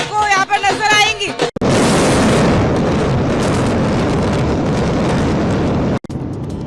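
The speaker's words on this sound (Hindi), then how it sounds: "जबरदस्त धमाका आपने देखा अभी, और चंद सेकंड के अंदर ये दोनों ट्विन टावर धराशायी" Controlled demolition blast bringing down the Twin Towers, a sudden roar that swells into a long, loud, dense rumble of collapse and debris lasting several seconds before cutting away, with a voice heard at the start.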